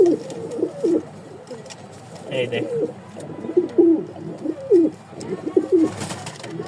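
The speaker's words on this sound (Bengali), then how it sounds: "এই দেখেন ডাক দেখলে বুঝতে পারবেন যে কবুতরগুলো ফুল হিটে আছে" Caged Lahori pigeons coo in repeated low, throaty phrases throughout, close by, with someone speaking briefly over them.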